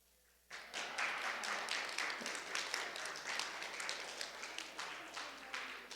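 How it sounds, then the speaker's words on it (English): An audience breaks into applause after a quiet moment, many hands clapping densely and evenly at moderate volume, sustained and slowly thinning toward the end, with no talk over it. "First applause all week."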